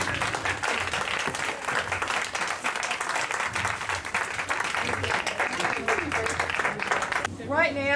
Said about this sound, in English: Can we give these folks a big round of applause?